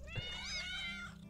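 A single drawn-out meow comes from a cat in the game Play with Gilbert Remake, close and clear over a low steady game background.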